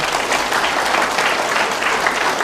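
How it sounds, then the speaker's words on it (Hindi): Sustained applause from a hall audience at a Hindi talk welcoming new guests, dense and steady throughout without a break. "बहुत जोरदार तालियां बजाएंगे हम सभी साथियों के लिए"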